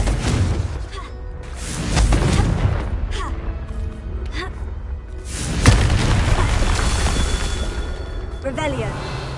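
Confringo fire spell explosions in the video game Hogwarts Legacy, heavy booming blasts with rumbling tails over a dense game soundscape, while a voice speaks over them.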